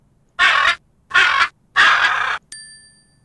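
A parrot gives three loud, harsh, raspy calls in close succession, each about half a second long with the last one longer, followed by a short bright bell-like ding.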